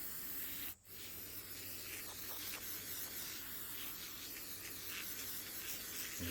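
An aerosol can sprays a coating onto wooden Heritage Rough Rider revolver grips, a steady close hiss that cuts out briefly near the start and then resumes.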